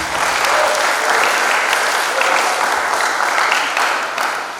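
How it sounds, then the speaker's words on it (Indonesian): A graduation audience at SMA Stella Maris Jakarta applauds steadily, a dense, loud wash of many hands clapping that holds throughout and eases slightly at the very end. "Tepuk tangan untuk anak-anak kita"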